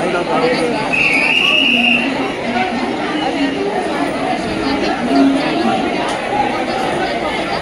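Dense crowd chatter fills a busy local train station platform as commuters push on and off a packed suburban train bound for Karjat, a steady loud babble of many voices close around.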